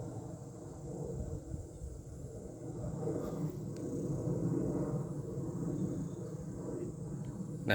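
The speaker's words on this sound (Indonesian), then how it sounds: "itu suara pesawat, bukan suara angin." Airplane flying overhead above a garden of lemon and jengkol plants, a low distant rumble that slowly swells and fades, steady and faint with no talk.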